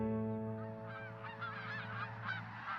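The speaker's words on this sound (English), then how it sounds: "The geese fly over us heading south for the winter." Geese flying south for the winter honk overhead in Pecos, New Mexico, a cluster of nasal calls over a steady low drone, fairly faint and distant.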